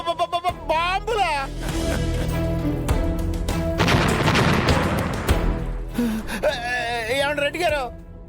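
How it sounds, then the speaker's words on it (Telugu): Country bombs exploding amid a tense Telugu TV drama scene, with loud booming bursts and harsh noise blending under music and agitated voices throughout. "అవి దీపావళి టపాసులు కాదు, నాటు బాంబులు."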